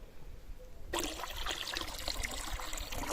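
Clean tap water suddenly starts pouring into a fish tank, a loud continuous splashing gush breaking in after a quiet moment and running steadily with no talk.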